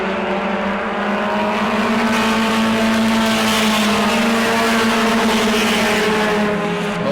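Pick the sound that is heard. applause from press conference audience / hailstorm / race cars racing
race cars racing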